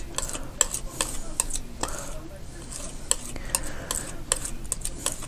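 A brush or stick stirs green paint in a container, making soft scraping swirls broken by light taps and clinks against the rim, close and fairly quiet.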